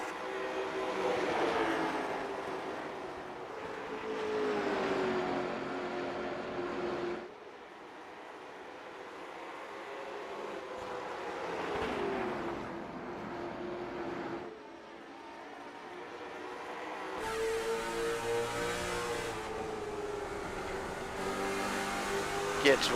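Race cars roaring around the track in an advanced-series race, engines rising and falling as they pass and rev, with a commentator talking over the steady motor noise.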